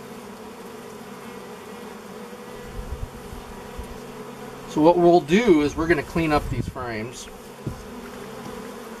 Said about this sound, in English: The bees are being very gentle.